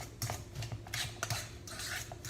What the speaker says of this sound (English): So all I'm doing with my fork is kind of like pressing and stirring at the same time.